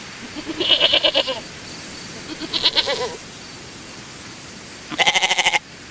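Goats bleat in a field, three separate wavering, quavering calls, each about half a second long and loud and close, with quiet pauses between them.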